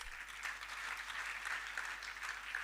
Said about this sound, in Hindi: अब तालियां तो बजा रहे हो